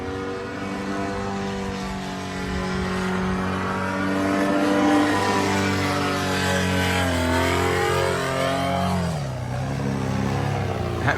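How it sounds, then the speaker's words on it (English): A paramotor engine, running rough after a crash into the Gulf, revs up and down continuously for about eleven seconds, loud and close, with rising and falling pitch and no talking. "That motor sounds like it's not too happy."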